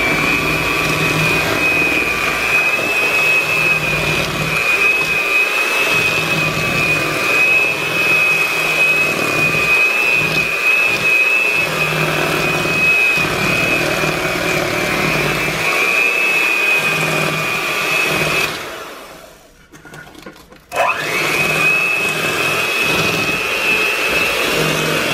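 An electric hand mixer whirs steadily as eggs are beaten one at a time into cake batter for a strawberries and cream cake, a loud continuous motor drone that cuts out briefly near the end before resuming.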